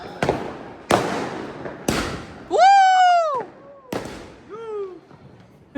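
Several loud New Year's midnight firecracker bangs pop at irregular intervals, broken up by a person shouting between the explosions.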